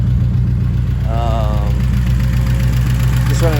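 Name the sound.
loud exhaust of Acura RSX Type S engine with Buddy Club headers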